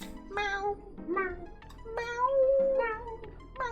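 A voice imitates a cat, giving about six drawn-out, rising and falling meows in quick succession, close and clear, one longer wail in the middle.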